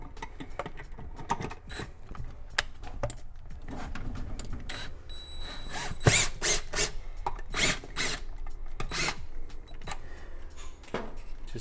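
Screws being driven into a wall outlet and Lutron wireless dimmer, with close, intermittent clicks, scrapes and metallic taps from the screwdriver and hardware over a steady low hum, no talking.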